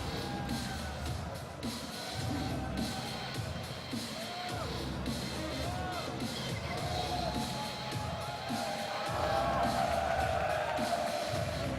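A Chinese crowd at a Glory kickboxing event cheers and shouts together, a dense roar of whoops and yells that swells near the end, with a voice speaking over it.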